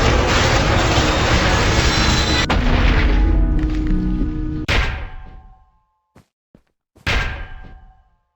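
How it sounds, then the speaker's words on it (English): A loud, rumbling mechanical drone of an elevator in a Minecraft backrooms map that cuts off abruptly, followed by heavy booming clanks separated by brief silences. "I found an elevator that made awfully loud sounds."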